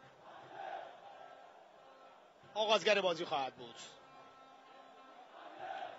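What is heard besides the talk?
football fans of Damash cheering their team in the stadium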